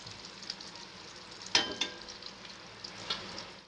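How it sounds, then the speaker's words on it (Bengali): Potatoes fry in hot oil for a cabbage curry, a steady soft sizzle with a few sharper crackles and stirring clinks, close and alone without talk. "আলুটা ভেজে নেব আমি, বাঁধাকপির আলুটা ভেজে নিলে বেশ ভালো হয়"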